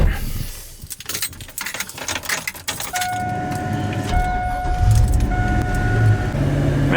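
New truck during a drive to a parts store, with a steady engine and road rumble, jangling keys and clicks at the start, and chime-like tones midway.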